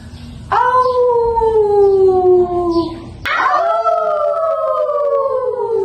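Werewolf howls in a legend tale: two long, loud, sliding canine howls, the first falling slowly over a few seconds, the second starting after a short pause and trailing off, with a low rumble beneath.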